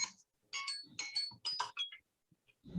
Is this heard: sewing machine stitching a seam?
no